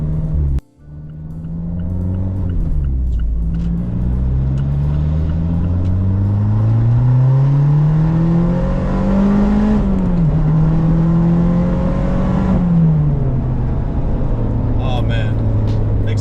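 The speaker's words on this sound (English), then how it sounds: "Great exhaust note, I love it. Sounds great in the cabin." A turbocharged ND Mazda Miata engine drones and revs inside the cabin, its pitch rising and falling through gears with a deep, steady exhaust note, loud and continuous.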